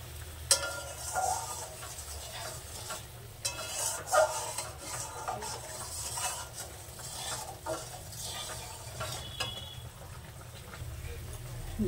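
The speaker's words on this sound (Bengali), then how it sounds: "জলটাকে আমি সুন্দর করে ফুটিয়ে নেব।" Water comes to a boil in a pot for a vegetarian paneer and green pea curry, giving a steady, close bubbling hiss with a few soft clinks.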